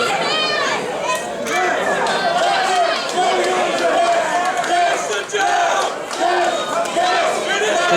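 Crowd at an independent pro wrestling show roars and chants steadily in a packed building, excited shouts and cheers rising and falling over a commentator's voice.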